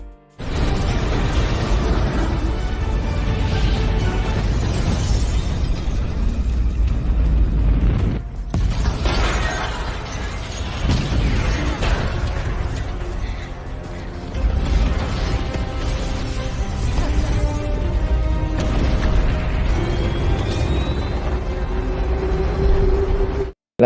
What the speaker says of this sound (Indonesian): dia pun pergi dari situ saat pesawat Dreykov mulai meledak